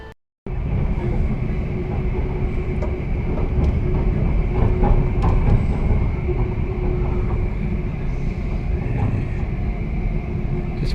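A train rumbles steadily along the line towards Ipswich, a constant loud rolling roar with faint rhythmic clicks of wheels on track, heard from on board with no voices.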